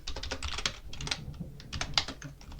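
Rapid typing on a computer keyboard during Linux setup work, a continuous run of close, crisp key clicks with uneven rhythm and a few louder strikes, no voices.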